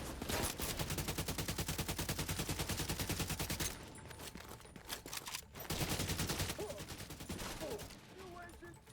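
Rapid automatic gunfire in the shooter game The Division 2, dense repeated bursts of shots firing loudly, pausing briefly, then resuming, with a voice speaking faintly in between.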